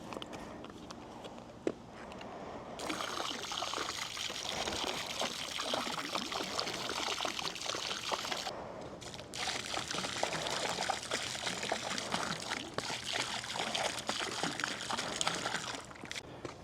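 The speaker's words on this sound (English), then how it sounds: "we do have to add muriatic acid into the pool because we have a high pH" Muriatic acid poured steadily into a swimming pool with a high pH, a continuous splashing trickle that starts after a few seconds, pauses briefly and then resumes, close and fairly loud.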